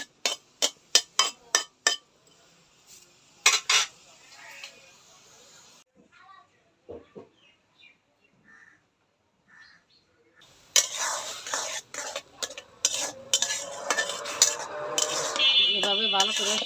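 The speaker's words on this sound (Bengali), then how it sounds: "এবার ভালো করে সিদ্ধ করে নেবেন ইসা মাছগুলো।" Isha shrimp boiling with salt in a cooking pot, stirred with a metal utensil: a run of sharp clinks and scrapes comes first, then a dense, steady bubbling hiss fills the last stretch.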